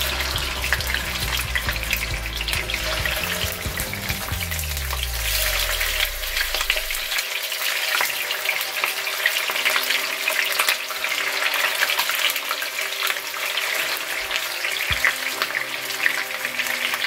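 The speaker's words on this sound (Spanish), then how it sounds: "vamos a empezar a freír nuestro pollo" Chicken pieces frying in a skillet with plenty of oil, a dense, continuous loud sizzle close up, with a low hum fading out partway through and no voices.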